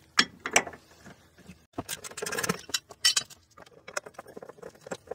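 A wrench clicks and rattles while removing a 14 mm bump stop mount bolt on a 2005 Honda Pilot. Close metallic ratcheting comes in short irregular bursts with brief pauses, and no one speaks.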